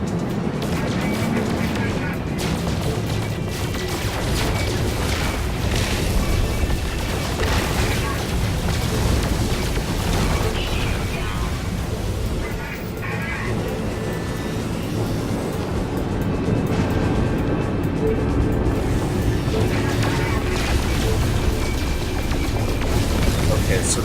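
Repeated explosions blasting the guns off a Sentinel freighter in No Man's Sky, a dense, sustained roar of booms and rumbling spacecraft engine noise running throughout, loud and continuous with no clear gaps.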